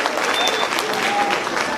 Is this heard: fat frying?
no